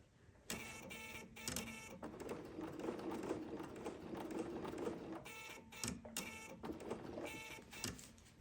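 A serger sewing machine runs in steady bursts while stitching in the ditch along the intersection of a Celtic knot quilting project, its motor whirring continuously with brief stops and restarts, close and fairly loud.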